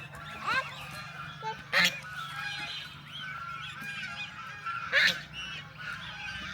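Ducks by a pond give harsh, honking calls, two of them louder and close, with quieter calling between them and a faint low background hum.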